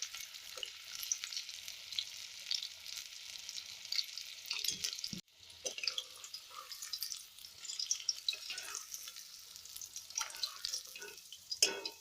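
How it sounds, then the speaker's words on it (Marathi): Chicken 65 pieces fry in hot oil with a steady, fairly soft sizzle and crackle, stirred now and then, with a brief break partway through. "अशा पद्धतीने बाकीचं मी सगळं तळून घेणार आहे"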